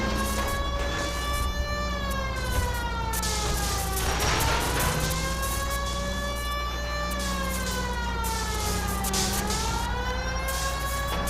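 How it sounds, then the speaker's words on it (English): A wailing fire engine siren in the video game L.A. Noire rises and falls in long, repeating sweeps over steady engine rumble, loud and continuous throughout. "There's a fire engine."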